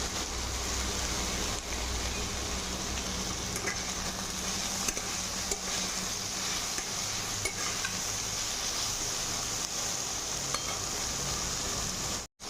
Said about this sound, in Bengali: কুঁদরিটাকে ভালো করে লাল করে ভেজে নেব